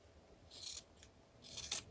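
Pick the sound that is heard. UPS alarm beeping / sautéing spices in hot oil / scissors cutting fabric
scissors cutting fabric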